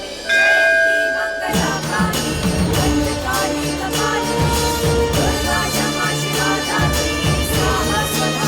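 Bell rung for a Navratri aarti, a loud metallic clang starting after a quiet moment, then repeated ringing with lingering tones layered under music-like resonance.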